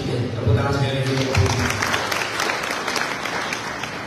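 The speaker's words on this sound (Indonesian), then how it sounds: "Tepuk tangan sekali lagi." Audience applause, a dense, steady wash of clapping from a crowd in a hall, loud and continuous, with a voice faintly over it at the start.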